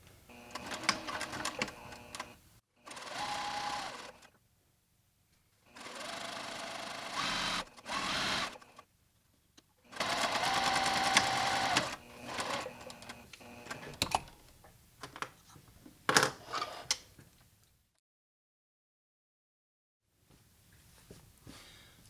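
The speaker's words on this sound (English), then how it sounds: "we're going to stitch the inseam starting and ending with a back tack" A sewing machine stitches the inseam of custom pants, starting and ending with a back tack: several loud whirring bursts of different lengths, separated by short silences and a few handling clicks, with no talking.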